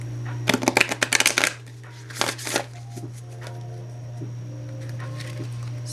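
Close, crisp shuffling of a Dialectical Behavior Therapy Skills card deck, with two quick bursts of rapid riffling and fluttering cards, then quiet handling over a steady low hum.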